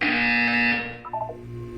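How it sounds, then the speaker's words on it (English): A loud electronic buzzer from the video game Portal 2 drones steadily for under a second, then falls away into faint tonal game sounds. "You will hear a buzzer."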